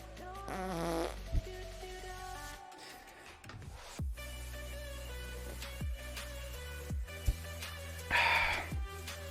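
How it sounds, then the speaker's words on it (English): Fart sound effect plays repeatedly over background music, several short sharp blurts spaced across the stretch, with a longer buzzy one near the end. "The secret is this fart sound."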